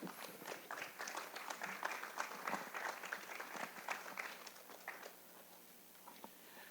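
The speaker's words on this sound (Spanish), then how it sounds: "por favor un fuerte aplauso para él" Enthusiastic applause from an evening tribute event audience welcoming a speaker to the stage, a dense steady patter of many hands clapping throughout, fading slightly toward the end.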